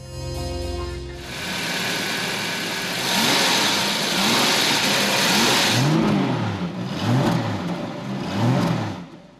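A 1973 Jaguar XJ 12 C with its 5.3-liter V12 starts, idles, then revs and accelerates in smooth rising sweeps, loud and close, with no voices.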